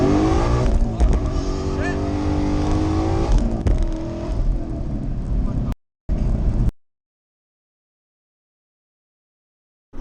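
A Ford Mustang 5.0 with a manual clutch revs hard as its tires spin, a loud, close, continuous roar that cuts off abruptly, returns for a brief burst, then drops into silence.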